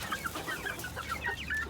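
Several short, soft clucks from an Asil rooster in a steady scatter over a continuous low background hum, fairly quiet and a little distant.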